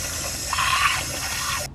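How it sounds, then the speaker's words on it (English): Water pours into a garden fountain to rinse it out, a steady rushing splash that lasts under two seconds and then cuts off abruptly. "Let's get some water though and just rinse it out and see what happens."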